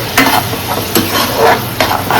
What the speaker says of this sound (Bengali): আদা রসুনটা ভালোভাবে ভাজাও হয়ে যাবে